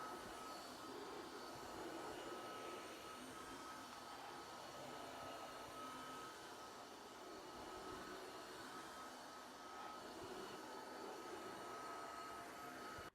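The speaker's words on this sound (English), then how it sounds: "We're vacuuming." A vacuum cleaner runs over the floor in a home with a steady, even whirring drone and a thin high whine. The hum stays close and constant throughout, with no one speaking.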